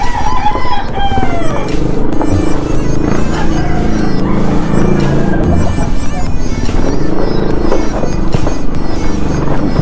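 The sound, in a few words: neighbours' chickens, rooster crowing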